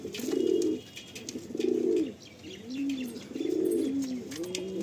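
Andhra pigeons coo close by, several repeated throaty rolling coos in a loose rhythm with short pauses between, alongside faint chirps in the background.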